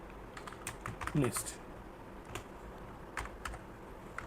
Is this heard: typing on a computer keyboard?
yes